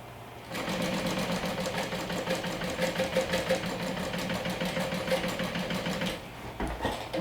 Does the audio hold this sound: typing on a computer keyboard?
no